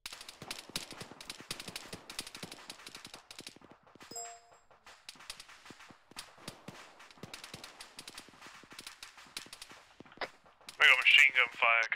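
Gunfire in the Arma 3 video game: bursts of sharp rapid shots crackle in clusters throughout, some distant and some closer, with a brief tonal ping and voices talking near the end.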